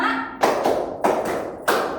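Several crisp hand claps in a counted classroom clapping pattern, four or five sharp slaps at uneven spacing, close and loud, after a brief bit of voice at the start.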